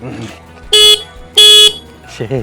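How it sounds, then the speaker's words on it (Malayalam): Horn of an Aprilia Tuono 457 motorcycle sounds in two loud, close blasts, a short one and then a longer one, with someone talking before, between and after them. "ജസ്റ്റ് ഹോൺ ഹോൺ ഞാൻ കേൾപ്പിക്കാം"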